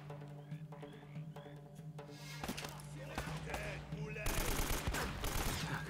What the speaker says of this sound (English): they're all firing in completely the wrong direction